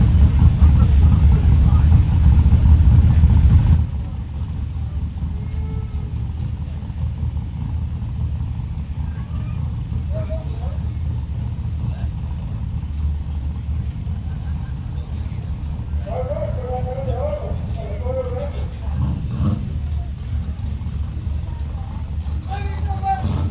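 An LS-powered nitrous drag racing car roars loudly for the first few seconds, then fades into a steady, distant rumble of engines and crowd noise at the drag strip.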